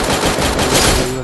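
Rapid automatic gunfire from the Free Fire Max battle royale mobile game, a loud, dense burst of shots lasting just over a second with no talk over it.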